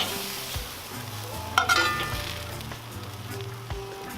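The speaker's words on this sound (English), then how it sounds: "Go in with our cast iron skillet. Put this meat over here." Ground sloppy joe meat frying in a cast iron skillet, a steady close sizzle broken by stirring and scraping, with a brighter burst of clinking and crackle partway through.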